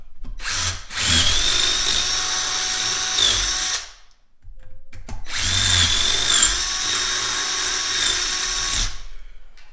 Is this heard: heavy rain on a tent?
no